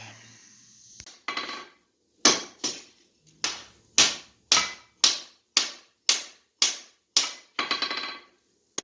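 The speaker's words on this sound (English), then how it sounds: "Again, I'm upsetting the end and flattening the cut." A hammer striking hot steel on an anvil while upsetting the end of a railroad clip being forged into a tomahawk, a dozen or so sharp metallic blows in an even, steady rhythm, loud and close with no talk.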